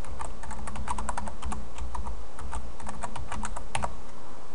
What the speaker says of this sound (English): Type in a password for this encrypted file.